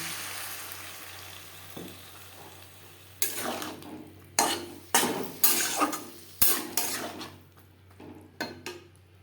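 Okra in a pan with spices is stirred and scraped in several distinct bursts, utensil strokes ringing against the metal over a faint background, with quiet pauses between the stirs.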